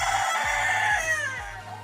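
Black hens cluck and a rooster crows nearby, with repeated short low clucks beneath a drawn-out crowing call.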